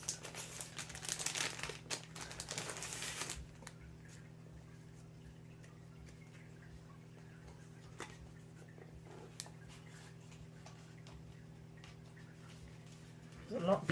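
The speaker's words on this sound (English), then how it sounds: "There's a lot of paper here." Paper crinkling while unboxing a Warhammer game: a loud, close burst of rustling and crumpling for the first few seconds, then quieter with a steady low hum and scattered small ticks, and another short rustle at the very end.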